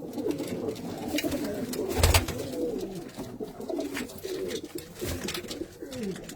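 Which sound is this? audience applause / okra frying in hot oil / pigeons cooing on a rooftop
pigeons cooing on a rooftop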